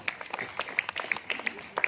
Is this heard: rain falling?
no